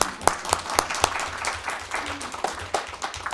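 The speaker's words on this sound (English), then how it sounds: "One more applause." A short burst of applause at a board meeting, individual claps distinct and fairly close, from a modest-sized group, briefly swelling then thinning out.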